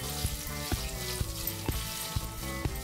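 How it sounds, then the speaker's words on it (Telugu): Green chilies frying in hot oil for coconut rice give a steady close sizzle, with regular soft taps of a stirring spoon roughly twice a second. "పచ్చిమిర్చి వేసాం కదండి, ఇది కొంచెం ఫ్రై అయితే"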